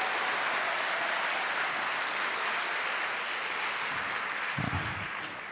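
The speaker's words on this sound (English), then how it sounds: "Give her a big round of applause." An audience at the 19th Empowerment Congress Summit plenary session gives sustained applause, a broad even roar of clapping that holds steady and fades slightly at the end, with a brief voice near the close.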